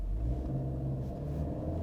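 A Fiat Pulse with a 1.3 engine and CVT revs and accelerates from a stop in Sport mode, giving a steady, close, low engine drone that climbs gradually inside the cabin, with no talking.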